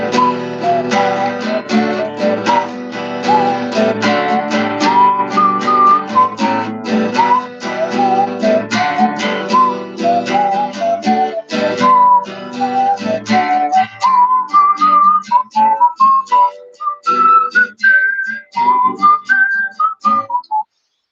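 Up-and-down guitar strumming on every quaver in an Irish folk rhythm, with accented beats, drives steadily under a bright whistle-like melody for about twenty seconds.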